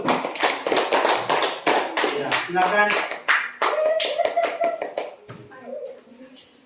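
A class of children claps together in rhythmic bursts for a student group that has just presented, the claps loud and close, then fading as a voice and a teacher's brief words come in near the end.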